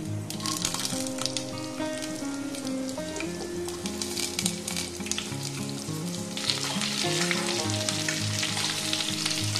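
Mango pieces hit hot oil with crackling mustard seed tempering, giving a loud, dense, continuous sizzle with constant spitting crackle that swells toward the end.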